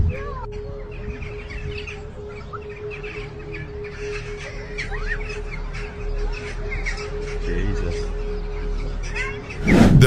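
Crows cawing in a group around a tall pole, repeated harsh calls over a steady outdoor background with a constant hum, ending in a brief loud rustle.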